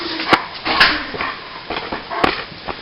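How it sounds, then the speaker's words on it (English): A large 120-pound German Shepherd lets out a few short, loud barks and yips at close range over a rough, noisy background. "It's a 120-pound German Shepherd."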